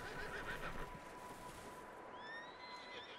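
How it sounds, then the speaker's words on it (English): A horse neighs sharply and agitatedly at close range inside a barn in the video game Red Dead Redemption 2, followed by a high rising whinny against a low background rumble. "there's an angry horse in there"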